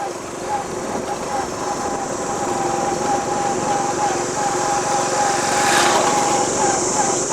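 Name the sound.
motorbike ride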